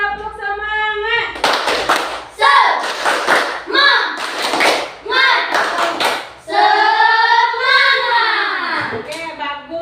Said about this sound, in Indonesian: 1, 2, 3, tepuk semangat.